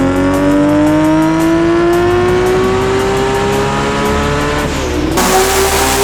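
A Nissan R32 GT-R race car with a full carbon body runs on a dyno, its engine droning loud and close, with pitch climbing steadily as it revs before a sudden sharp change near the end.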